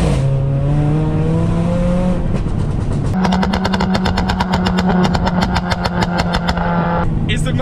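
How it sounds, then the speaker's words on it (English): A straight-piped Mercedes A45 AMG engine drones loudly up close, then breaks into a rapid, rhythmic burst of crackling exhaust pops before the note changes again at the end. "the noise this thing is producing is unreal."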